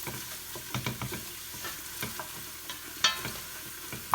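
Onions being stirred in a pan before cooking mussels in cream and curry, with a soft sizzle under repeated clacks and scrapes of the spoon, fairly quiet and close.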